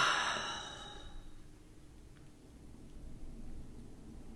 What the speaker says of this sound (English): Now take another deep yawn.